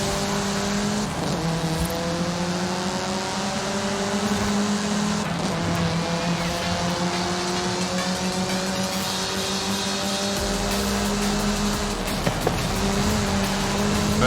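A rally car engine in the Forza Horizon 5 video game drones steadily as it shifts through rising gear pitches, with brief gear-change dips and occasional tire noise.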